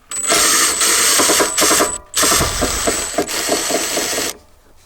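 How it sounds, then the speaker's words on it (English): Screws being removed from the engine control computer of a 2002–2009 Toyota Prius, heard as a loud, steady rhythmic buzzing that stops briefly midway, then resumes and cuts off near the end, with no talk. "and now I open these screws"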